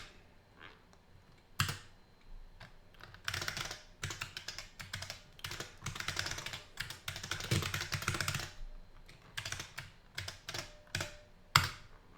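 Code being typed on a PC-DOS computer keyboard from around 1983: rapid bursts of clacking keystrokes, close and crisp, with short pauses between runs and no talk.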